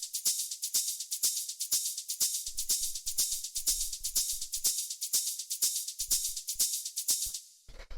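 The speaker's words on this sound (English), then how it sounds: "The first sound that we have here are these hi-hats / shakers" A progressive house hi-hat and shaker loop at 123 BPM ticks in a bright, steady sixteenth-note pattern, with soft low kick thumps joining partway through, all alone with no voices.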